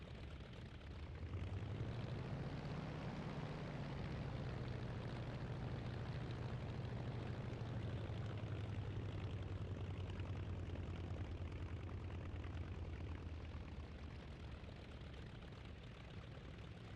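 A La-7 fighter's piston engine idles at low power while taxiing, a steady droning rumble with a slowly wavering pitch, heard from inside the cockpit with no talk.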